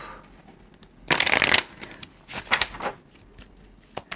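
Tarot cards shuffled and drawn for a water-signs reading: a loud, close riffling burst, then a few shorter flicks and snaps of cards being drawn and laid down, with no voices.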